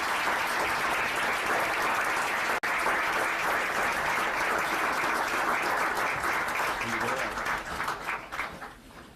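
Sustained audience applause at a technical college signing day, loud and steady crowd clapping lasting about nine seconds before tapering off near the end.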